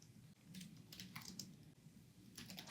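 Someone types on a computer keyboard in short irregular bursts of soft, close key taps over a low steady room hum, with no voices.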